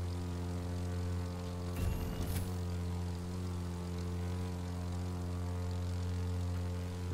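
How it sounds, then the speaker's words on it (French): Propeller airplanes fly overhead in The Crew 2 racing game, a steady droning hum with layered engine tones. A brief rougher burst of noise cuts in around two seconds, then the drone carries on evenly. "Regarde tous ces avions."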